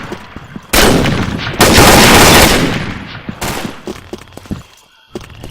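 Heavy bursts of rifle fire from an AWP sniper rifle in an esports shooter match, loud and close, with a long sustained roar of shots followed by scattered cracks and rattles.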